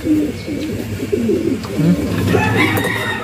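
Racing pigeon cooing close by in a loft, a run of soft repeated throaty coos in a steady rhythm, loud and alone.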